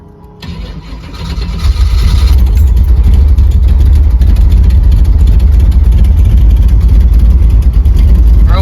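An AMC Spirit car engine starts and settles into a loud, steady running rumble up close, with a brief quieter lead-in before it fires.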